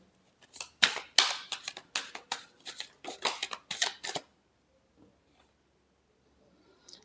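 A new deck of tarot cards being shuffled by hand, a quick burst of crisp riffling snaps close up for about four seconds, then near silence with a couple of faint taps.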